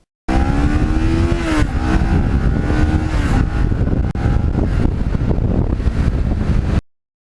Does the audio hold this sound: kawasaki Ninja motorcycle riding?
yes